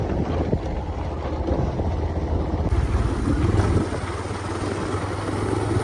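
A motorbike engine rumbles steadily throughout, with wind buffeting the microphone as it rides along.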